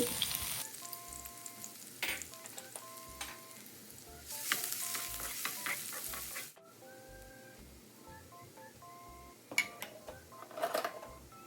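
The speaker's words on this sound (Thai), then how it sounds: "ใส่กระเทียมลงไป ผัดให้กระเทียมหอมและเปลี่ยนเป็นสีน้ำตาลเล็กน้อย" Garlic frying in about two tablespoons of hot oil over medium heat, a faint even sizzle with scattered sharp clinks and scrapes of a spatula on the pan, plus some faint electronic beeping tones in the background.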